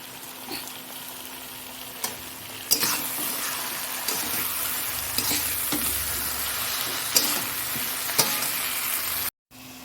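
Shredded cabbage and green chillies sizzle steadily in a hot pan while a utensil scrapes and clinks against the metal in irregular stirring strokes, heard close with no voices.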